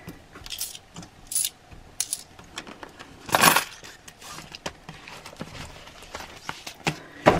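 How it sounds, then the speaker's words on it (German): Loose small change in euro coins is dropped into a paper envelope, giving a run of clinks and metallic jingles with one louder rattling burst near the middle, close and without speech. "das Kleingeld kommt jetzt in den Back-to-Bank-Umschlag"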